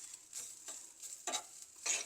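Coconut, rice, fennel and pepper dry roasting in a pan for a baby jackfruit masala, with a soft steady sizzle and several brief scraping stirs recurring every half second or so, close and fairly quiet, no voices.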